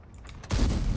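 A Leopard PT A tank's cannon fires in a video game: a single sharp, loud blast that bursts in midway and rolls on in a heavy, booming tail, with no talk over it.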